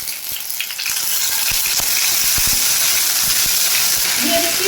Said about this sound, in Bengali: এবার আমি এর মধ্যে দিয়ে দিচ্ছি হাফ চামচ আদা বাটা